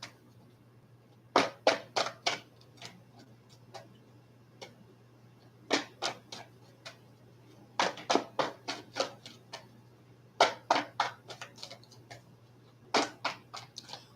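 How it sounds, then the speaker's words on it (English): Tarot cards shuffled in repeated bursts of quick riffling flicks, close and crisp against a quiet room with a low steady hum. "Let me shuffle my cards."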